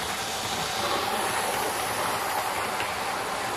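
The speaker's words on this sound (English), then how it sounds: "Now you can imagine this train thundering on its way down to the West Country" A model train runs along a model railway line with a steady, continuous rushing hiss and rumble, even in loudness throughout with no voices.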